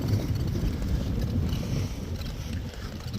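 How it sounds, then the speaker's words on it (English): Steady low rumbling crosswind buffeting the microphone on a bike ride along a road, continuous and fairly loud, with no voices. "I've got a fairly decent crosswind at the moment"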